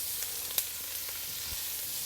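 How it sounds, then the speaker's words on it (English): Two chopped shallots fry in oil, giving a steady close hiss of sizzling with a few faint pops and light stirring taps. "Using the same oil, we'll add in 2 shallots chopped. Mix them around a little bit to get the flavor out."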